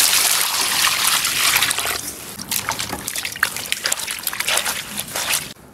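Water poured and sloshing over beef tripe being washed, a steady close trickle and splash that grows choppier with intermittent bursts before stopping abruptly.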